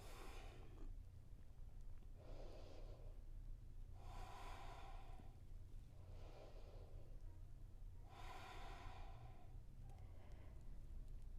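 Deep, slow breathing during a seated side stretch, with three clear rounds of long airy inhales and exhales close to the microphone, alone over a low steady hum.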